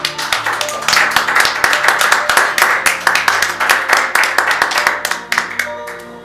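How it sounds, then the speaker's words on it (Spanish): Congregation clapping after a call to applaud Christ during a Christian church service, dense steady hand claps filling the room with a few sharper near claps, continuous for several seconds. "Denle un aplauso a Cristo"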